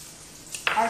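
Cream poured into a hot pan with olive oil set on low, a short sudden sizzle that flares up and then holds, following a quiet moment.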